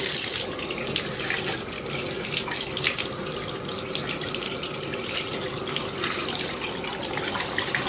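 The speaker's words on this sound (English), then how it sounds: "You'll want to rinse thoroughly under cool water until the water runs clear" Cool tap water runs steadily over a human hair wig being rinsed in a sink, a continuous close splashing hiss with slight shifts as the hair moves under the stream.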